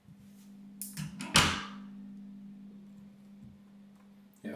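On a newly fitted door handle and latch, a close metallic click and a sharper clack come as the latch is worked and the door swings open, over a steady low hum, then a fainter knock at the end.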